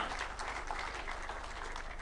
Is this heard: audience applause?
yes